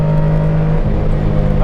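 Manual car held at high revs for a launch start, a loud close engine drone that shifts pitch midway, with someone talking over it.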